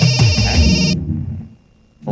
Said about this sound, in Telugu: ఫోన్ ఎవరిది?